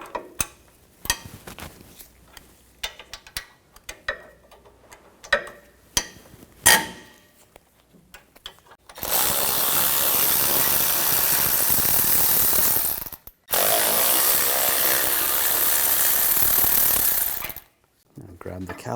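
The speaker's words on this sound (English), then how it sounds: "Take these two bolts off." Brake caliper bracket bolts on a 2013-2019 Ford Escape are removed with an 18mm socket, probably on an impact gun. Scattered clicks and knocks come first, then two long, loud, steady bursts of driving noise separated by a short break.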